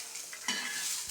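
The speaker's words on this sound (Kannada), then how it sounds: "ಈಗ ಇದು ಮಸಾಲೆ ಪದಾರ್ಥಗಳನ್ನು ಕೂಡ ನಾನು ಉರಿಯೋಕೆ ಹಾಕ್ತಾಯಿದ್ದೀನಿ" Masala spices frying in oil in a pan for mutton chops, heard as a brief soft sizzle with a light stirring scrape, close and low in level.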